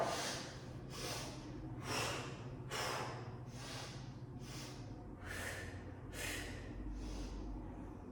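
Rhythmic breathing during an aerial pilates class, a series of about eight close, airy inhales and exhales spaced roughly a second apart, with a low steady hum of music or room noise underneath.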